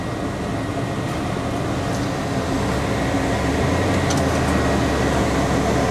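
A 1964 Corvette's heater fan running on high inside the car, a steady, loud broadband whoosh of blowing air with a faint mechanical hum, unbroken and without talk.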